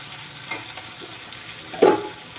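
Lentil dumplings (bori) fry in a pan with a low, even sizzle, and a louder clatter of stirring comes near the end.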